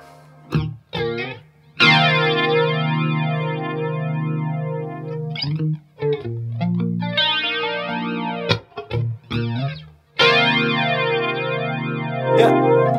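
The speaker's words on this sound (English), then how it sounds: "Just play it with the chorus a minute." Electric guitar through a chorus effect, with sustained shimmering chords and a few short plucked notes between them, wavering and slightly distorted, close and loud without talk.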